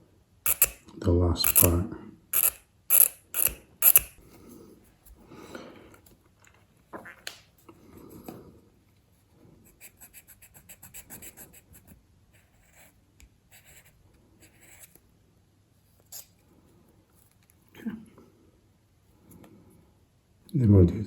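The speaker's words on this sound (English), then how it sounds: "I think I'll scrape. I'll scrape it off initially, and then I can come in and sand" A plastic 1/200 scale IJN Mikasa model ship hull being scraped, with a quick burst of sharp, close scraping strokes at the start, then softer intermittent scrapes while someone talks.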